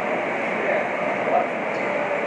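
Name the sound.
subway train ride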